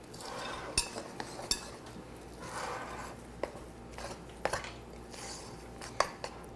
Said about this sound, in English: 2/3 of a cup of milk, and we're gonna stir